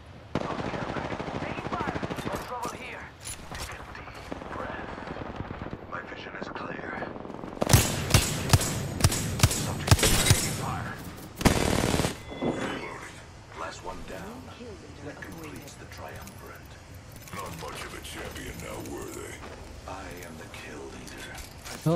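Automatic weapon fire in Apex Legends, a loud burst of rapid shots around the middle with a few separate bangs, set among game effects, with a player talking over it.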